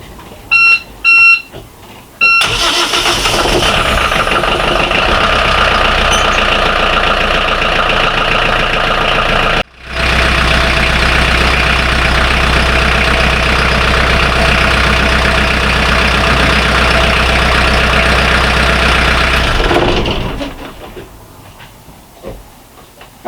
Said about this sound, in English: we'll fire it up. I'm just going to let it run for a minute or two.